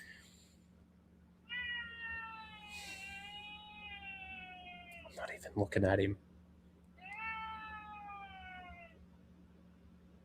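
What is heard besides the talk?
cat meowing to be fed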